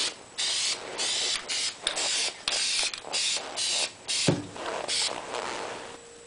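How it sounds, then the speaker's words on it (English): Repeated bursts of pressurized spray hissing from an aerosol can of dark gray primer, short on-off pulses with brief pauses, close and steady. "finish up the spray painting on this"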